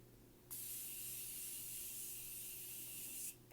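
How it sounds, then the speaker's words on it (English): A single sustained hiss of Morphe Continuous Setting Spray misted onto a made-up face, starting abruptly, holding steady for about three seconds, then cutting off, close and clear against a quiet room. "I'm going to take a little bit of my Morphe Continuous Setting Spray and just set the face."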